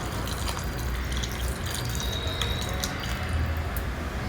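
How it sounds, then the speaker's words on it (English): Tamarind extract being poured into a pot of cooked vegetables for sambar, a steady, close liquid pour and splash running throughout over soft kitchen background noise. "Now we'll add in this tamarind extract."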